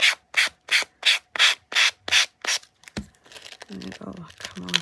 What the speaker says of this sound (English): Just sand down.